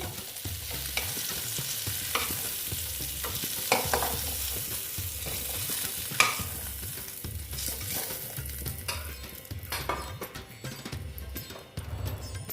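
Eggs fry in hot oil for an Afghani egg curry, giving a steady, close hiss of sizzling broken by occasional scrapes and knocks of a utensil against the pan.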